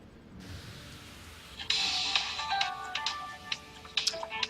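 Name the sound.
phone ringing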